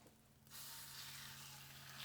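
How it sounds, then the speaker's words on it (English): Chicken sizzling skin side down in a hot pan, a sudden bright frying hiss that starts about half a second in and then holds a steady, close crackle over a low background hum. "There ain't nothing better than chicken sizzling in a pan."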